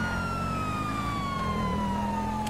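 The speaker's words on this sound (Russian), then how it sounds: "Поехали, включаем сирену." Police car siren in the GTA 5 video game wails steadily throughout, a loud sweeping tone over engine rumble with no talking.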